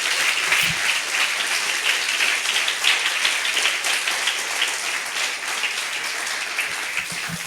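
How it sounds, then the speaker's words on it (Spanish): A church congregation applauds with sustained, dense clapping that fills the room evenly, close and lively, with no speech over it. "Dale fuerte el aplauso al Señor entonces."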